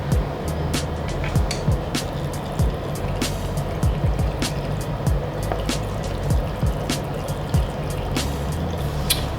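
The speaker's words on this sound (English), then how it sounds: "now I'm going to drain the main engine oil." Engine oil draining from a Honda CRF450R supermoto into a pan, a steady liquid trickle and patter with repeated drips and splashes, close and continuous throughout, no talking.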